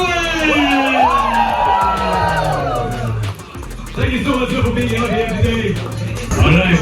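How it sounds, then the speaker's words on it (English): A crowd at the Yamaha stand at the MotoGP Bharat event cheers and whoops loudly, with shouts rising and falling under a host's amplified voice and a renewed swell near the end. "make some noise for Franco!"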